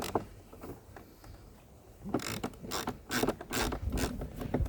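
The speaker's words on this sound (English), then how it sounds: "I'll put this to undoing and I'm going to hold the blade whilst I undo it" A ratchet wrench undoes a nylock nut on a Lymow robotic mower blade, making rapid, close clicking ratchet strokes in several bursts after a quieter start.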